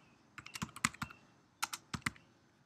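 Keys tapped on a computer keyboard while a question is entered into a Moodle question bank, a quiet quick run of clicks in two short bursts with a pause between, close and alone with no talk.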